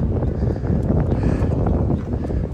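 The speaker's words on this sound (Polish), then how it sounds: "Trochę wieje, także będziecie pewnie słyszeć wiatr." Loud, blustery wind buffeting the microphone outside a mosque in Abu Dhabi, a dense low rumble that surges and fades throughout.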